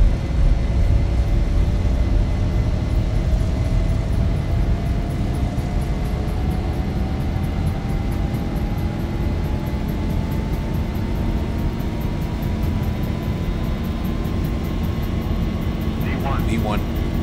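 Airliner engines roar through a takeoff roll in the X-Plane 11 flight simulator departing Salt Lake City, a loud continuous rumble with a slowly rising whine, while a voice talks over it.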